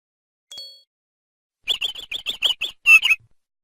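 Bird in a children's educational animal game, heard as a quick run of seven or eight bright, close chirps in a steady rhythm, ending in a longer trill, after a short faint tone.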